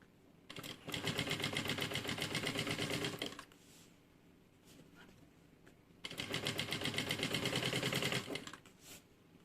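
A domestic sewing machine stitching a toiletry bag runs in two steady rapid bursts of needle clatter, each a few seconds long, separated by a quiet pause with light handling noises, close to the microphone.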